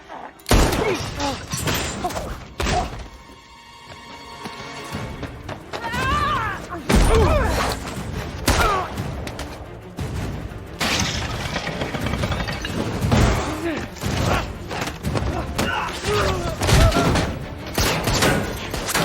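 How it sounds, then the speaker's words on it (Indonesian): Gunfire in an action film scene cracks out in several sharp bursts over a dense, busy soundtrack, loud and close amid shouting voices and dramatic noise. "Terlihat Mike terpojok, namun Rosyne langsung menembaknya."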